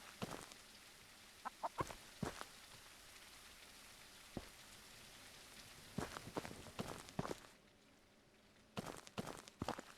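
Chickens cluck in a detective video game set at Twin Lakes, with soft clucks and scattered sharp taps over a faint steady rain-like hiss, fairly quiet and without talk.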